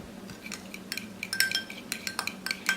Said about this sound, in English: And you're just going to mix that in and watch the color change.